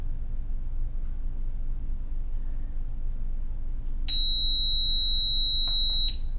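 A shrill electronic workout timer alarm beeps continuously for a couple of seconds after a quiet stretch, loud and steady over a low background hum.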